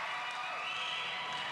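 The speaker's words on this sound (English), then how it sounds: "getting more applause from the other side of the ring" Crowd at a high school novelty wrestling match applauds from the far side of the ring, a dense, steady wash of clapping and noise, fairly faint and distant.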